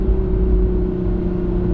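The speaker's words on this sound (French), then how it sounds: "L'échappement devient un petit peu plus sonore." A Toyota GR Supra 3.0 in sport mode after a downshift, a steady low engine and exhaust drone with a throaty hum, close and continuous, no talking.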